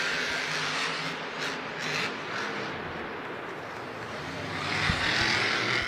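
Monster truck engines roar continuously at a Monster Jam stadium event in Houston, a loud, steady broadband drone that swells toward the end with crowd-like wash, no speech.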